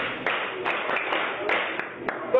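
Rhythmic handclaps at a Joy FM Fantastic Four Tour event, sharp regular strikes about every few tenths of a second, loud and close, mixed under a singing voice and music.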